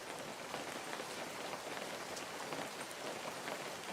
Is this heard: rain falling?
yes